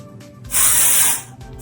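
Hairspray from an aerosol can hisses in one steady, close burst of about three-quarters of a second onto freshly curled hair, with quiet room tone before and after.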